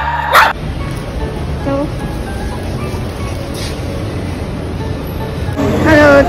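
A dog gives a short burst of barking and yipping at the start and again near the end, fairly close, over a steady background hum with faint car noise.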